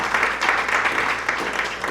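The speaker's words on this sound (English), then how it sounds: "How about another round of applause for that great presentation?" Steady audience applause at a school parenting talk, a dense even wash of many hands clapping at moderate volume with no voices over it.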